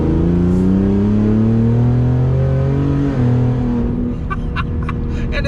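Loud, close twin-turbo engine of a decatted 2019 Ford Raptor revving hard with rising and falling pitch, then dropping back to a rough idle with some rattles, and no talking.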